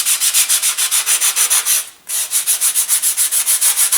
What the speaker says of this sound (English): now what I'm going to do is, based on that, I'll come in and I'll sand everything in